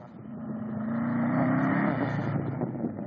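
A buggy engine revs and climbs in pitch during a son's first ride, a loud close motor drone that rises, holds and then eases slightly.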